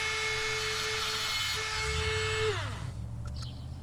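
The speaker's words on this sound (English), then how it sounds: "I need to trim the chassis just a bit to accommodate the new axles. This burr bit will do the trick." A rotary tool fitted with a burr bit whines at high speed while trimming a Hot Wheels toy car chassis, a steady buzzing tone that spins down and stops near the end.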